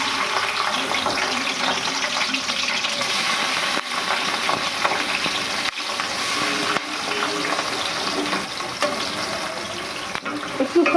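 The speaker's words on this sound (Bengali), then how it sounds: "এই যে তেলটা গরম হয়ে গেছে, এখানে প্রথমে আমি এই চিংড়িগুলোকে ভাজবো।" Prawns frying in hot oil, a loud, continuous hissing sizzle that fills the whole stretch, broken now and then by brief dips and soft clatter as they are moved in the pan.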